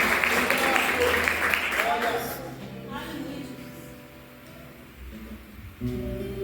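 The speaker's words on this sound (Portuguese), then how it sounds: "Pode aplaudir o Senhor." A church congregation claps loudly for a couple of seconds during a sermon, over music and voices, then the applause fades as a steady musical tone carries on.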